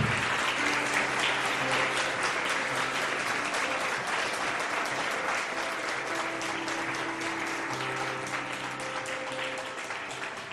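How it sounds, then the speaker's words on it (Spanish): Church congregation applauding loudly and steadily throughout, a dense sustained wash of clapping with faint tonal music underneath. "Si le vas a dar ese aplauso, dáselo fuerte."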